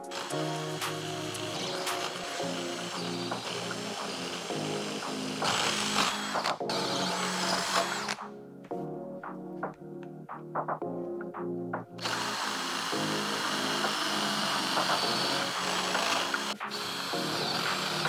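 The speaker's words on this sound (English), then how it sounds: "I'm gonna have to switch to a paddle bit that I have that's the same size and it will just barely reach through to the end of that" Power drill with a paddle bit boring a through hole in a wooden workbench: loud, steady whining drill noise that pauses midway, with a few short knocks in the quiet gap, then resumes at full strength to the end.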